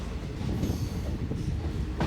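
Passenger train pulling into Punalur railway station on the Kollam–Sengottai line, a steady close rumble of wheels and carriages with faint rail clatter throughout, no voices.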